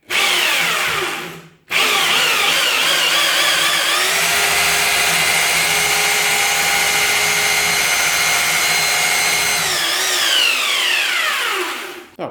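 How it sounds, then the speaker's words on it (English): A Parkside PBH 1050 B2 or PBH 1500 D4 hammer drill in drilling-only mode bores into brick, one brief start, a short stop, then a long steady loud whine that falls away as it spins down. "Let's see how they drill."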